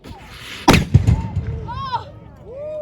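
Historic cannon fires during a re-enactment at Old Fort Niagara, one sharp loud blast followed by rumbling echo, with people calling out and talking after the shot.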